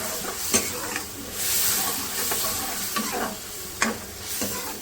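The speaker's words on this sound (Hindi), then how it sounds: "मसाला डालने के बाद मैं इसको भून लूँगी।" Onions and masala frying in oil as a spoon stirs through, with a steady low sizzle and a few sharp scrapes of the spoon against the pan at irregular intervals.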